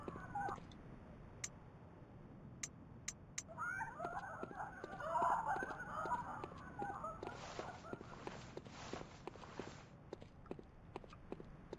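A burst of raspy crow calls in the PS1-style Bloodborne demake, a cluster of squawks in the middle of the moment amid scattered footstep-like clicks and game ambience.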